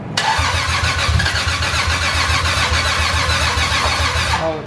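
A 2JZ-swapped BMW E36 fires up for the first time, backfiring into the intake manifold: loud, close engine cranking and rough running that holds steady for about five seconds, with no talk over it.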